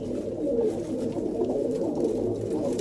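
A close racing pigeon coos in a low, continuous throaty warble for a few seconds, with no other sounds around it.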